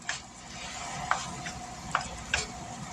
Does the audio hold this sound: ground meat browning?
yes